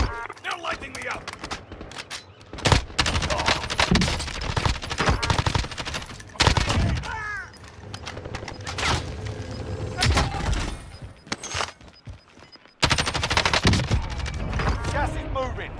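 Enemy gunfire in Call of Duty Warzone comes as bursts of sharp automatic shots and single cracks, some close and loud and others further off, scattered over about sixteen seconds while people talk over it.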